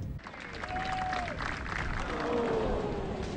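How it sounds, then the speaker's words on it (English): A golf gallery in a Tiger Woods video game applauds in unison, a steady, moderately quiet wash of clapping with a faint tonal line running through it. "The crowds do seem to all clap at the same time"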